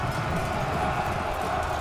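Veteran cavalry horses charging in a Pike and Shot battle game, a dense continuous rumble of hoofbeats mixed with crowd-like battle noise, loud and steady throughout.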